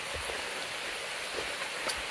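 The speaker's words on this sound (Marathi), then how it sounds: "पावसाने ऐनवेळी धोका दिलाय आपल्याला" Steady rain pouring at a hillside temple set among misty hills, a dense, even hiss with soft scattered drop patter close by and no voices.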